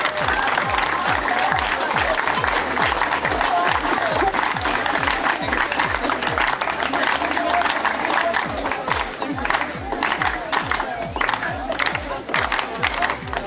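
Steady, loud applause from a crowd fills a volleyball tournament's closing ceremony in Liptovský Hradok, with dense rapid clapping throughout and a few voices mixed in.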